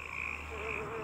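Frogs croak in a swamp area of the video game Ahriman's Prophecy, a soft continuous chorus with ambient drone, faint and steady for about a second with no talking.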